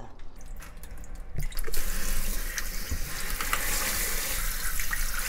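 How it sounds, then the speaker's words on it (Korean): Running tap water streams steadily over thinly sliced green onion being rinsed in a kitchen sink, a continuous close splashing that swells louder after a quieter start, with occasional drips and small clinks. "대파를 얇게 썰고 물기를 빼야지. 한번 헹궈서."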